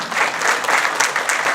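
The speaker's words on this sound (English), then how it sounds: "Give her a round of applause." A steady round of applause fills a county Board of Supervisors meeting room, honouring the family of an elderly former Salinas Valley farmworker; dense, even clapping from the audience, fairly close, with no speech over it.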